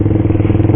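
Motorcycle fitted with a loud racing exhaust, idling or rolling close by with a steady, throbbing low rumble and a rapid pulsing beat throughout.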